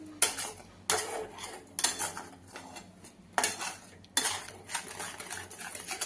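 A spoon scrapes and knocks against a pan while a khoa and sugar mixture for homemade kandi pedha is stirred, four bursts of clattering metal strokes with quieter gaps between, close and fairly soft.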